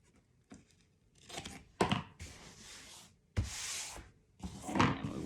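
Scissors cut through paper for a handmade album base, giving several rough, rasping snips of varying length, close and fairly quiet, with short pauses between cuts and no talking.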